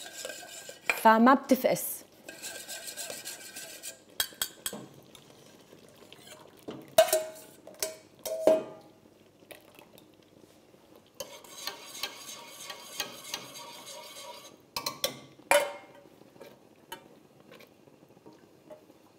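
A utensil stirs cream sauce in a pan for mushroom and turkey pasta, scraping and clinking against the metal in uneven bursts with quiet gaps, close up, while someone speaks briefly.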